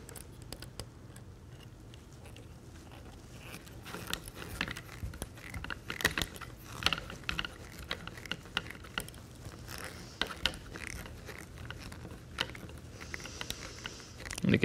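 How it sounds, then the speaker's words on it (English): Small screws being driven through a short steering rod into the servo horn of a wooden RC car kit give faint, close ticking and ratcheting clicks in an uneven rhythm over a quiet room. "take another one of these screws, pass it through the short steering rod, and then into the servo horn"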